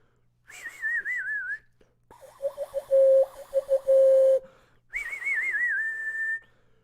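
A performer at a live improv comedy show whistles in three clear phrases, a warbling trill, then a run of steady and wavering notes, then another trill, with short pauses between them.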